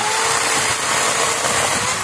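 Recently repaired electric chainsaw cutting through a bush branch, a loud, continuous high-pitched motor whine steady across the short stretch, close to the listener.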